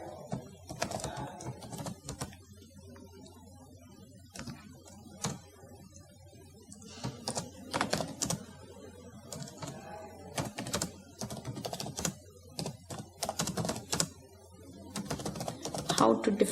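Computer keyboard keys clatter in irregular bursts while JavaScript code is typed, with someone talking over much of it between the runs of keystrokes.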